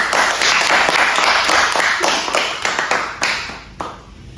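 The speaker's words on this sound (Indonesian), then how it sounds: "tepuk tangan dulu" An audience at a talk on Pancasila breaks into loud, close applause, a thick crackle of many hands that holds strong and then tapers off in the last second.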